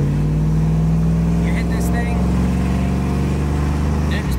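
A 1995 Chevrolet Suburban with 540,000 miles pulls hard under acceleration, a loud steady low engine drone building from inside the cab, with a few faint clicks and rattles over it.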